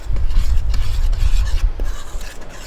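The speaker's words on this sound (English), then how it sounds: "And I stir this again just to incorporate those ingredients together." Focaccia dough ingredients are stirred in a bowl inside a camper van, giving continuous scraping and rubbing strokes with a few light clinks. The sound is close and steady throughout, with no talk.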